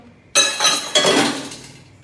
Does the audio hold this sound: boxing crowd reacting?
no